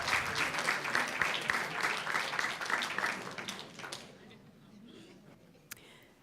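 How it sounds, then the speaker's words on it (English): A round of applause from attendees at a school board meeting, moderately distant, building briefly and tapering off after about four seconds into quiet room noise. "Let's give him a round of applause."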